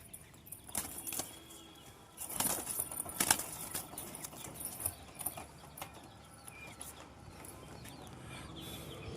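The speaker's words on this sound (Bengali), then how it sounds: "এই হচ্ছে নর কবুতরটা" Bursts of pigeon wing flapping, loud for a couple of seconds then fading into softer rustling and scattered faint bird sounds, no voices.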